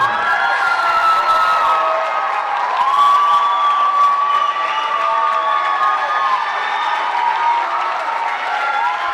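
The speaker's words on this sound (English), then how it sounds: "a round of applause for our graduating students." An audience at a school awards night applauds and cheers for graduating students, loud continuous clapping with whoops and shouts riding over it, steady throughout.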